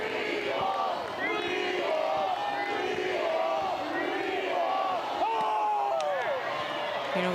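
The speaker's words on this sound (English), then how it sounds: "this crowd feeding on the energy of every single pitch" Crowd noise from the stands at an Oregon versus Stanford NCAA regional softball game, a steady roar of fans swelling with the tension of a pitch, heard beneath a commentator talking over it.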